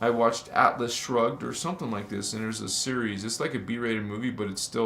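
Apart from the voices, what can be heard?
None of the usual background noises is heard.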